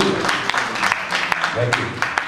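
A church congregation applauds during a sermon, a steady wash of many hands clapping mixed with voices.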